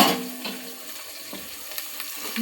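Crushed green chilli and curry leaves sizzle in hot oil for a Telangana uggani, a steady frying hiss with a sharp burst at the start and a few crackles, no voices.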